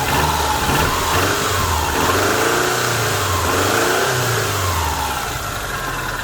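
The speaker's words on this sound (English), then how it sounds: "Let's give her a little rev here on the old." A car engine revs up and settles back down a few times, a loud, steady mechanical drone rising and falling close by.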